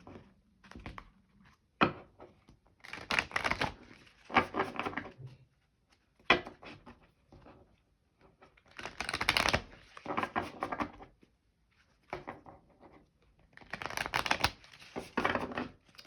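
Cards shuffle in repeated rapid riffling bursts, crisp and close, each lasting a second or two with short pauses and taps between.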